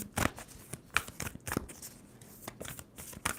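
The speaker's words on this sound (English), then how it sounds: "2 more shuffles for Capricorn. 1, 2." A deck of tarot cards is shuffled up close, with quick riffling bursts and soft flicks of cards repeating in an irregular rhythm.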